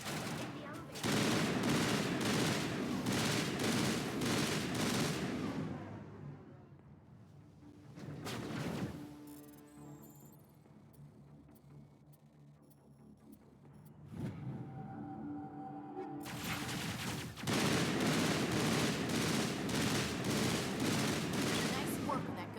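Video game gunfire from Mass Effect Legendary Edition comes in loud, dense bursts of rapid shots, stopping for a quieter stretch of mechanical rumble and faint sounds before heavy firing resumes.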